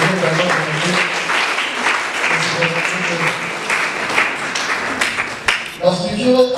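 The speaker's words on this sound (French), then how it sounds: "sous vos applaudissements" An audience at an International Day of the Girl event in Bandundu applauds, a dense, steady clapping with talk and cheering mixed in, swelling near the end.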